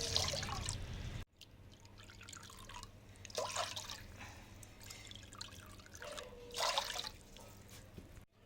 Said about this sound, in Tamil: நம்ம தண்ணி ஊற்றிக்கலாம்